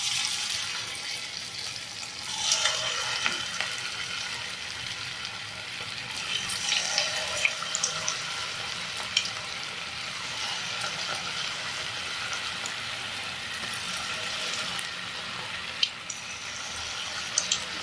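Cabbage pieces fry in hot oil in a kadai on a stove. A steady, close hiss of sizzling oil continues throughout, with occasional sharp pops and crackles and no talk.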